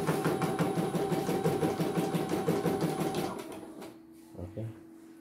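A portable E900 embroidery machine runs with a steady rapid mechanical stitching rhythm for about three and a half seconds, then stops, leaving a faint hum and a couple of soft knocks.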